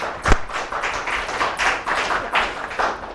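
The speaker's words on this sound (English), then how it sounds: "can I have a round of applause for AppDynamics?" A crowd at an SF Big Analytics tech meetup claps for sponsor AppDynamics: a steady, dense patter of many hands at moderate loudness, opening with one sharp near thump, with no talking over it.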